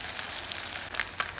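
Fish fries in hot oil, a steady bright sizzle with a few popping crackles, close and continuous through a brief moment with no talk.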